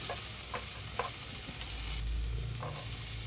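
Chopped tomato sizzles steadily in a hot pan for pulav made with vermicelli, a continuous frying hiss with a few soft stirring knocks, close and alone without talk.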